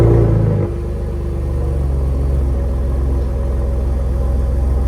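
A 2021-24 Gen3 Ford F-150 Raptor with an AWE catback exhaust starts in normal mode, a loud flare settling within a second into a steady, deep, throbbing idle that stays close and continuous.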